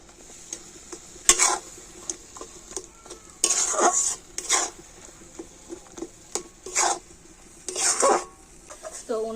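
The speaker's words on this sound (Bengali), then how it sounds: "আর এবার আমি দুধের সাথে ছানাটা কিন্তু এইভাবে কন্টিনিউ ভালো করে নাড়াচাড়া করে নেব।" Milk with chhana is stirred in a pan for Krishnanagar sarpuria sweets, repeated scraping and clinking of a metal spoon against the pan in irregular bursts over a soft simmering sizzle, close and fairly loud.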